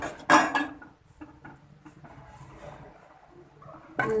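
An herbal soap mixture is stirred in a pot after essential oil is added, with a loud clatter of a utensil against the vessel, then quieter scraping and tapping, and another clank at the end.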